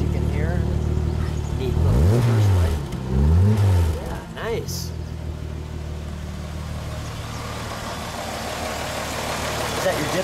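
A 1964 Ford Thunderbird hardtop idles with a steady, low exhaust rumble that swells through a couple of brief revs early on, then settles, while people speak briefly nearby.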